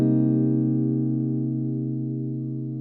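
A single minor 7th chord strummed on a jazz guitar rings out alone and sustains for about three seconds, its dark, slightly processed tone slowly decaying.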